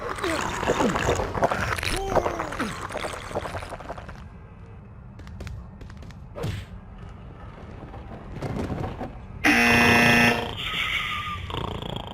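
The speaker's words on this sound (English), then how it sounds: "didn't you hear the buzzer?" A loud electronic buzzer blares for about a second in the prison video game Hard Time III, standing out sharply from busy game sounds and muffled ambience, with a voice speaking around it.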